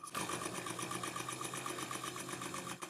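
Stirling engine fitted to a bicycle running steadily: a fast, even mechanical whirring and clatter, close and constant for a few seconds, quiet overall.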